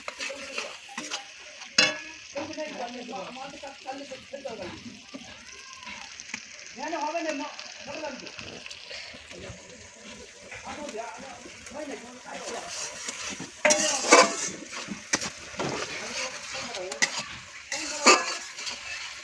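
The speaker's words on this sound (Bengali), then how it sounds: "এবার আমি কষাকষিগুলো করি, করে মাংসটা দেবো।" Mutton being stir-fried in a pan over a wood-fired stove, with steady scraping and stirring, a soft sizzle, and occasional clinks of utensil on metal, while a person talks throughout.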